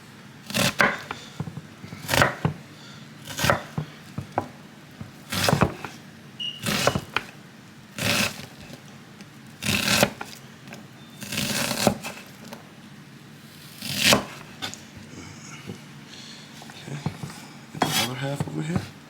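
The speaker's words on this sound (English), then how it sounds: "You chop your vegetables the size you want." Kitchen knife chopping vegetables on a cutting board for Louisiana-style gumbo, a series of sharp, close knocks in irregular bursts with quieter handling sounds between them.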